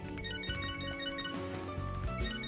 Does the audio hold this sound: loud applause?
no